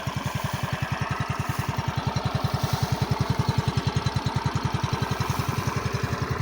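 A scooter engine idles steadily just after starting, with a close, even low-pitched putter that holds a regular rhythm throughout.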